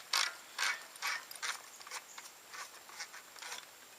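A life jacket inflator bobbin is unscrewed by hand, giving about eight quick, close, faint ratcheting clicks spaced roughly half a second apart.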